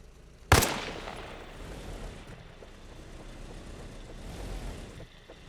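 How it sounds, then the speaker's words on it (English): One sharp Russian SVD armor-piercing rifle shot rings out in the video game Arma Reforger, then a lingering reverberant tail with a low engine-like rumble beneath. "4 shots with the Russian SVD armor piercing ammo is going to disable a vehicle if you're hitting it directly in front"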